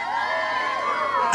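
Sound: married women in a crowd shouting on the announcer's cue

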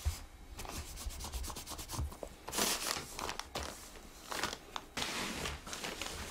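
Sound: cloth wiping urushi lacquer on wood

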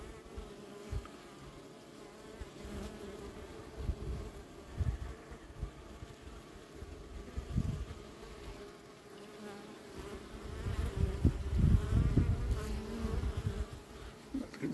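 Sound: honeybees buzzing at a beehive

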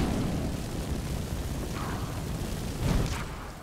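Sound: fire spell blast in the video game Skyrim

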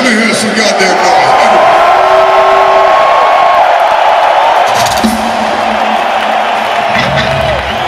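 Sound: rock concert crowd cheering in MetLife stadium

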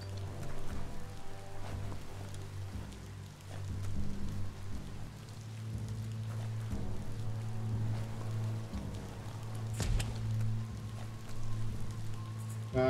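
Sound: rain in the video game Biomutant

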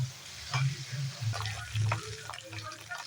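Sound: onions sautéing in oil until golden

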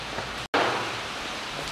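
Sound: rain

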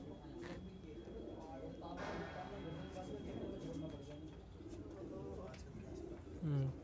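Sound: fulsara Madrasi pigeons cooing

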